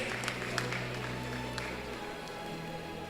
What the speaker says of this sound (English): So please give her a good round of applause